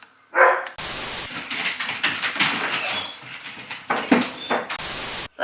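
Several dogs bark loudly and close by in a continuous, overlapping burst that lasts about five seconds, ending abruptly.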